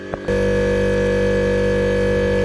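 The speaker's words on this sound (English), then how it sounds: "The compressor's just kicked in." An air compressor in a jewellery workshop starts up after a brief click and then runs with a loud, steady motor hum and rapid pulsing thump.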